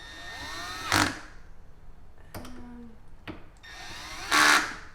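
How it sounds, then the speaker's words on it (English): A cordless drill on its lowest clutch setting tightens a screw on a kitchen cabinet handle: short, close motor whirs and bursts of ratcheting clutch slip, separated by quieter pauses, with no talking. "that clutch sound of like, that sound, that's what you want to hear"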